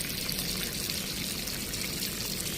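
Light watering of freshly planted saag greens in a home kitchen garden: a steady, close, continuous splash and trickle of water with no voices.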